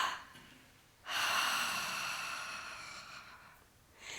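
A slow, deliberate breath from a calming exercise: faint, quiet inhale at first, then a long, steady, airy exhale that gradually fades, with another breath starting near the end, close and alone.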